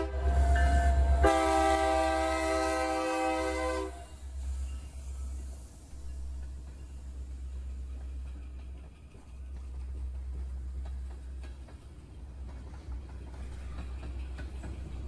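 A train passes on active railroad tracks beside a live steam railway in Southern California, opening with a loud, sustained horn blast over a deep rumble, then a steady rolling drone with faint rhythmic rail clatter.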